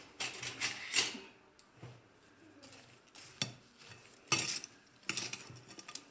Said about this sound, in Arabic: غنضيف الساشيه ديال الفاني، وغادي نحرك الخليط ديالي مزيان